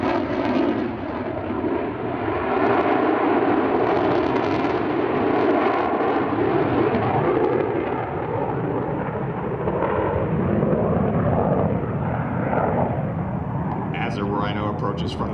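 F/A-18F Super Hornet jet passing at an air show at about 500 feet and 450 mph, a loud continuous roar and rumble that swells and holds for the whole stretch, with a voice speaking over it.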